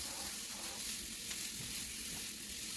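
Meatballs for a veggie meal prep sizzle steadily in a hot pan, a continuous close frying hiss with no voices over it.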